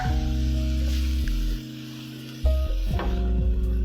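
A lettuce wrap stir fry with a splash of sauce sizzles loudly in a pan close up, with a short dip in the middle before the frying hiss flares back.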